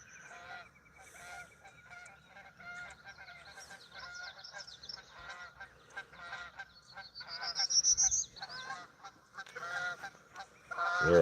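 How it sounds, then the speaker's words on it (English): A flock of geese honks overhead on an early morning outdoors, a steady chorus of calls that builds louder as the birds approach, with some distant background noise beneath. "There's some geese coming through there."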